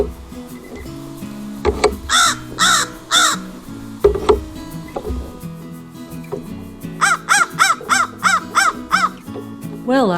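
Crows cawing near a dog food puzzle, loud harsh caws in two bursts, a slow pair then a rapid run of about eight, close over low rumbling background sounds.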